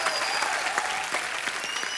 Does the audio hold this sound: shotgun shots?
no